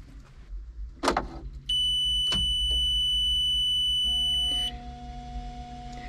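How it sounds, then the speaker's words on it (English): Mini excavator fuel pump priming before start-up, a steady electronic warning tone holding for several seconds, then a low, even electric hum that continues alone afterward. "that noise you're hearing right now is the fuel pump activating."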